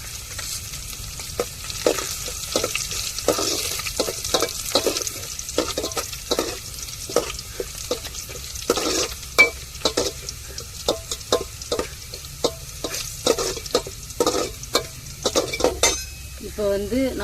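Vathal fries in a pan with a low sizzle under frequent, irregular stirring clinks and scrapes of a metal spoon against the pan, close and fairly busy, no speech.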